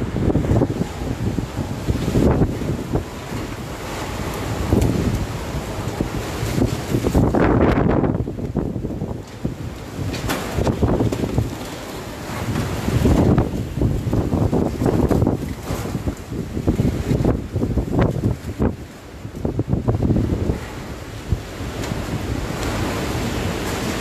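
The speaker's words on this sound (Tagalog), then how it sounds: "mukhang malakas pa rin yung hangin sa Milaor" Strong typhoon winds of Super Typhoon Goni (Rolly) roar and gust loudly and continuously near Milaor in the Rinconada area, with surging bursts rising and falling throughout and no voices.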